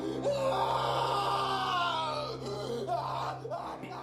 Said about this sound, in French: j'entendis des cris venir du boyau par lequel j'étais arrivé